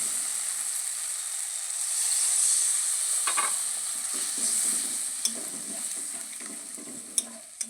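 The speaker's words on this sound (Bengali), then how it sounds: "এইবার আমি জল দিয়ে দেবো" Water hits a hot pan of spiced chela fish curry, setting off a loud, dense hissing sizzle that swells and then gradually settles, with a few sharp clicks near the end.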